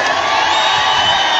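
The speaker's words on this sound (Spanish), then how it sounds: "Fuerte el aplauso para el doctor Gustavo Petro, seguro, presidente de Colombia." A crowd at a public rally for Colombian president Gustavo Petro in his hometown of Ciénaga de Oro, a dense continuous roar of cheering, whooping and applause, loud and close throughout.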